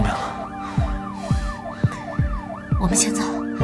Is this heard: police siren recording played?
yes